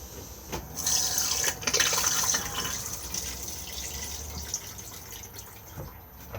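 A Thetford cassette toilet flushes inside a Bailey Pursuit caravan, a close, steady rush of running water that swells for a few seconds, then tapers into a softer trickle with small clicks.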